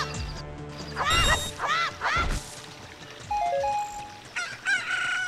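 A chicken crowing in the video game The Legend of Zelda: Ocarina of Time on N64, several loud, rising-and-falling crowing calls in quick succession, followed by chiming game tones.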